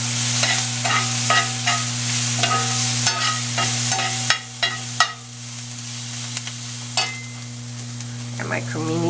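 Cremini mushrooms sizzle steadily in a hot frying pan for fajitas, with a constant bubbling hiss, a low electric hum underneath, and several sharp scraping clicks of a utensil stirring the pan.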